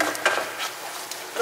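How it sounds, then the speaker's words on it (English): Plain flour stirred into melted butter in a pan for lasagna sauce: a few soft scraping strokes of a spoon against the pan with light sizzling, close and brief. "I'm gonna add our 4 spoon of plain flour. Stir this one."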